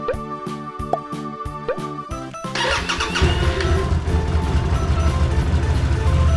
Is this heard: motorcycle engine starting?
yes